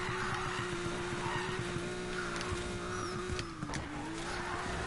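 A car drifting in Need for Speed Payback, the engine holding a steady loud tone under throttle while tires screech and skid, the pitch dipping briefly before recovering.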